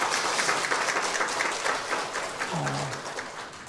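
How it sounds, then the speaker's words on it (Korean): A congregation in a church gives sustained applause, broad and even throughout, with a faint voice briefly surfacing near the end. "한번 박수 한번 쳐주시죠"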